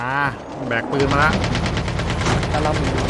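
Rapid automatic gunfire in Call of Duty Mobile zombie mode, loud and continuous bursts of shots following a brief voice at the start, with speech-like sounds mixed in.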